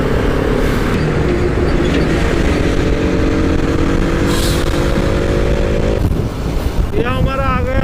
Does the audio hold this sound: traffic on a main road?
yes